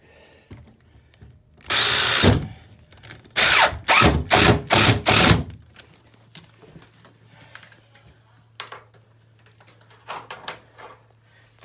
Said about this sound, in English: To seat these drywall screws, I use this little bit.